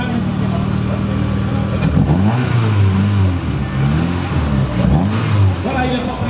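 Ford Sierra rally car at a classic rally, its engine rising and falling through gear changes as it accelerates past, loud and close, with voices talking over it.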